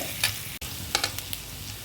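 Chopped onion sautéing with crushed garlic in a pan, giving a soft, steady sizzle broken by a few light scrapes and taps of stirring, fairly quiet and with no talking.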